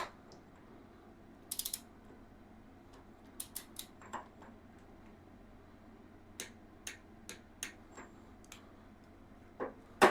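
Ratchet tightening and loosening the steering stem nut on a Honda Shadow Sabre 1100 motorcycle, sparse sharp clicks in short clusters over a quiet workshop background, close and fairly faint.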